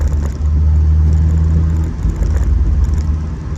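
Pontiac Solstice GXP running on the road, a steady low engine drone with rumble dominating throughout, close and fairly loud, easing slightly in the second half.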